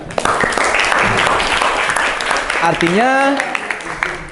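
Students applauding in a classroom, a busy patter of clapping under chatter, with a rising voice or whistle-like call cutting through near the end.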